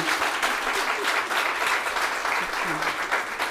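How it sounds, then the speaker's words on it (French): A gathering of women at a community meeting in Agboville breaks into continuous clapping, a lively, even round of applause with faint voices murmuring underneath. "Si ce que je dis vous plaît, madame, ne vous privez pas, applaudissez"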